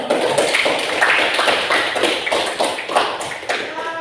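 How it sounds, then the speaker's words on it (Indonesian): Applause in a high-school classroom for a student group after their presentation on human respiratory system disorders: dense, steady clapping from a small class, fairly close, running the whole stretch with a faint voice underneath. "kita berikan aplaus untuk kelompok 2"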